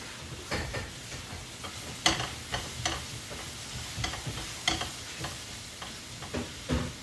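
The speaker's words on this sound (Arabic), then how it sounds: "وأحمس عليه لين ما يتشقر لي" Food sautéing in butter in a pan until golden, a soft continuous sizzle broken by irregular stirring scrapes and taps, close by.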